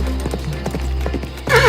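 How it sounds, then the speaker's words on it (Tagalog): A horse's hooves clop in an uneven rhythm while riding through a forest, several fairly close, loud steps ending in a brief louder burst that may be a whinny. "Ang malakas na ingay ng kabayo ko"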